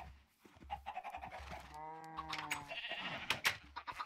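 A cow in the Minecraft modpack Agrarian Skies gives one drawn-out, wavering moo in the middle of the clip, set among other clicks and sounds from the game.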